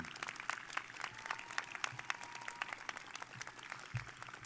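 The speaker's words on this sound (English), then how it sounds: "I'd like to hear a big round of applause for the faculty and staff of George Bush High School" Round of applause at a 2021 Fort Bend ISD high school graduation ceremony for faculty and staff; distant, fairly faint crowd clapping, scattered and uneven, heard across a large space.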